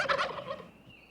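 Wild turkey gobbling, one rapid rattling gobble that fades quickly, clear and fairly close with no voices.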